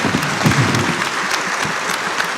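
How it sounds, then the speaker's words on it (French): Audience applause after a conference talk on the brain and fake news, a dense, steady wash of many hands clapping that fills the room for the whole stretch with no voices on top. "Merci, on vous applaudit."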